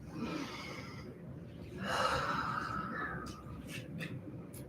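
Slow, audible breathing during a guided breathing exercise: a soft inhale, then a long, fuller exhale, with faint background voices and a few light rustles, all quiet and close.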